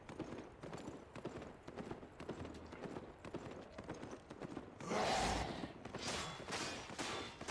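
Rhythmic clip-clop of a mounted horse's hooves in the video game Albion Online, steady and close, with a louder burst of galloping near the end and a brief voice heard.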